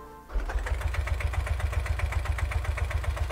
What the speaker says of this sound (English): it will sound like the engine is starting from nothing